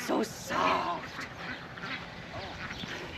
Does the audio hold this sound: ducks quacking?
yes